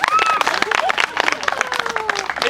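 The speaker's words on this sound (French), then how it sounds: "On applaudit Jade." An audience claps at a storyteller's live performance, a loud burst of close, quick hand claps mixed with voices calling out over the applause.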